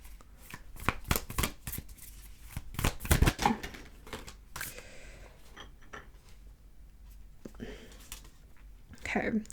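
Tarot cards being shuffled by hand during a reading, a run of quick riffling bursts and soft papery slaps, close and fairly quiet, with pauses and a few faint rustles between.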